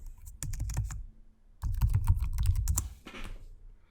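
Rapid clicking keystrokes on a computer keyboard, typed in two close bursts separated by a brief pause, crisp and near with no talking.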